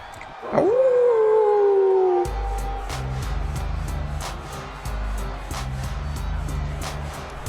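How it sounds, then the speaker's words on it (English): A long, rising and falling howl from the audience at a Saturday Superstar Showdown tournament event cuts through loudly, then gives way to a steady, pulsing crowd roar. "Now, are they howling for him or are they booing?"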